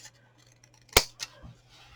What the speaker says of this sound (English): just take the chance and cut it with your scissors